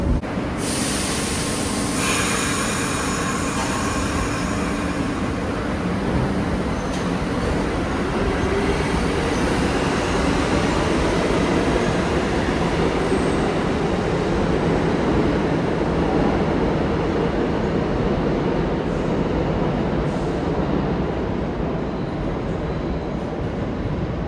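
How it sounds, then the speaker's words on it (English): A New York subway car rides the E line, a continuous loud rumble and roar of wheels on track with faint squeals, heard from inside a nearly empty car, steady for the whole stretch with no talking. "Entire subway car to myself."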